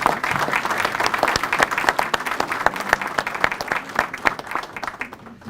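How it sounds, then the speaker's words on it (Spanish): A crowd applauds at an international seminar on curriculum reform, with dense, continuous clapping that holds steady, then thins out toward the end. "eso creo que merece un aplauso a la Universidad de Campinas"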